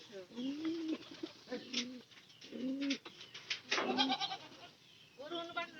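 Domestic pigeons in a home loft give repeated low, throaty coos in short rounds with brief pauses, close and fairly clear, with other bird calls mixed in.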